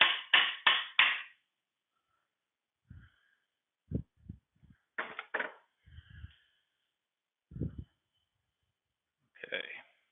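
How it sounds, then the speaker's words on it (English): A plastic hammer taps on the PTO parts of a 1953 Allis Chalmers B tractor, first in a quick run of four strikes, then in scattered single and paired knocks with pauses between, close and fairly quiet. "Can't find my brass hammer, so I guess this plastic one will have to work."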